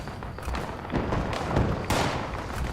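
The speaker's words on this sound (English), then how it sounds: "Look at those big explosions going up on the hill." Big explosions going up on a hill in Fallout 76, a series of dull booming thuds over a noisy rumbling background, with one sharper blast near the end.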